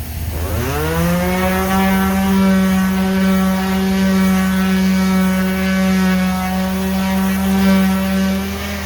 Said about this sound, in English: My dad's running the sawmill right now.